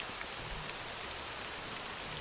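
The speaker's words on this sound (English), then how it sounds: "Oh goody, rain." Steady rain falling in the video game Morrowind Bloodmoon, a soft, even hiss of drops that holds constant without letup.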